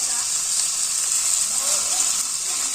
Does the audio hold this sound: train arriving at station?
no